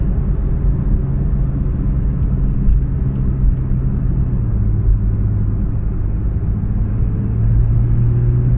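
Porsche 911 GT3 RS from 2016 cruising in fourth gear at about 3,000 RPM, a steady low engine rumble and road noise inside the cabin, with a slight rise in pitch toward the end and no talking.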